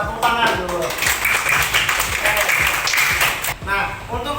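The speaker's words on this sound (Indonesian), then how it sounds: "Iya, tepuk tangan dulu." Children in an elementary school classroom clap hands together in a steady, busy burst while a teacher's voice and chatter carry over it.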